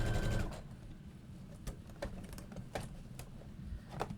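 A sewing machine stitches a seam on a foam-lined tote bag, a steady low mechanical whir with periodic ticking clicks, running alone and fairly close.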